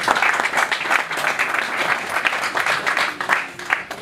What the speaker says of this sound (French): Sous vos applaudissements, M. Grégoire Chapelle,